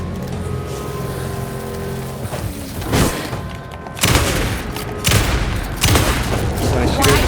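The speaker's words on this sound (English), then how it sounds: "So I shoot her in the face" Several heavy gunshots boom in the video game Alan Wake 2, a few separate loud blasts spaced over the seconds above a low rumbling game soundscape.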